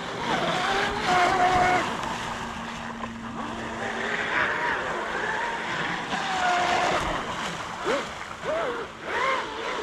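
Small high-pitched motor of an RC jet boat on a 6S battery whining and buzzing on water, rising and falling in pitch as it speeds and slows, with splashing and outdoor background noise.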